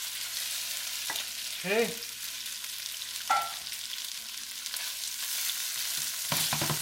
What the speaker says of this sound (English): we're gonna fry up the salmon first